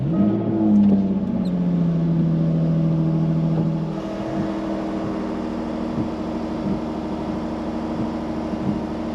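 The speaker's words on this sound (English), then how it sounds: "And start the car." A Jaguar F-Type V6 (P340) engine cranks and fires up, an initial whirring starter surge settling after a few seconds into a steady, loud idle with a faint rhythmic pulse.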